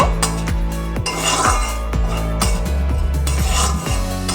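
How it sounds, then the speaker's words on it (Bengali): A metal utensil knocks and scrapes against a wok in a steady rhythm, about two strikes a second, close and clanging. "হালকা করে কড়াইতে আমি একটু নেড়ে চেড়ে নেব"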